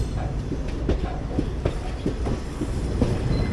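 Rolling rhythm of the 12677 Ernakulam Intercity Express on rails between Bengaluru and Ernakulam, steady rumble with repeated clickety-clack wheel beats over the joints, heard from on board and fairly loud, no voices.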